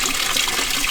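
A Maytag top-loading washing machine fills its basket with water, a steady close rushing and splashing stream running without a break and with no voices.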